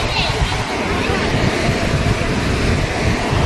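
Cold wind gusts at Digha beach, buffeting the microphone in a loud, steady roar with surf washing beneath it; a voice speaks in between.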